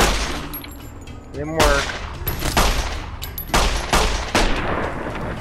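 Several sharp gunshots from Fallout: New Vegas, spaced irregularly and loud, with someone talking over the action between shots.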